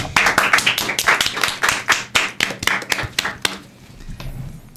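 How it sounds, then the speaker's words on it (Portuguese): An audience claps in applause to welcome a guest on a podcast set, a dense burst of many hands that thins out toward the end. "Aplaudam!"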